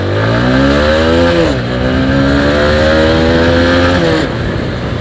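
A TVS Apache motorcycle running Motul engine oil accelerates hard from a standstill, starting in first gear. The engine note climbs steadily and drops at two quick upshifts, loud and close throughout.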